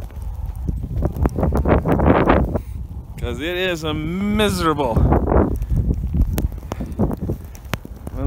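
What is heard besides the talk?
horses walking on frozen muddy ground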